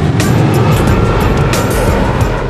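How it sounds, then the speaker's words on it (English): Jet aircraft engine at Hong Kong's Kai Tak airport, a loud continuous roar with a broad rushing hiss, steady throughout and close. "Hot jet engine, that's one way to dry your washing."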